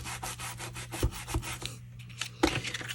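Rubbing down a folded paper card front by hand, a series of soft, dry scraping strokes in a loose rhythm with a few firmer rubs, close and quiet.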